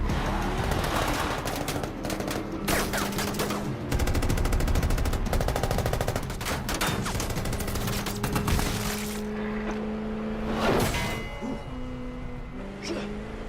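Sustained machine-gun fire rattles through a loud action-film firefight, dense rapid bursts layered with other gunshots and a low drone, continuing almost without pause over about thirteen seconds.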